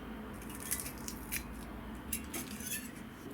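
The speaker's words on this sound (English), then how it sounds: "with the remaining leaves on here I'll just snip these off really" Scissors snip ZZ plant leaves off close to the base, a series of faint, close, crisp cuts spaced unevenly over a quiet background.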